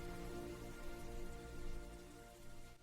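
Steady rain falls through a forest during a storm, a dense, even hiss of drops with no breaks, fairly soft and continuous throughout.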